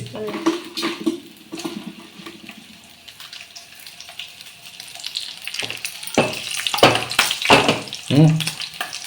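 Garlic cloves and dried red chillies fry in a spoonful of oil in a kadai, giving an irregular crackle and sizzle that swells toward the end, with water running and stirring clatter nearby.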